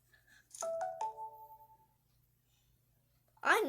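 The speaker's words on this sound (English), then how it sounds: "That was my phone." A phone's electronic notification tone rings out as a few bright tonal beeps that ring and fade, then after a quiet gap a voice starts talking close up.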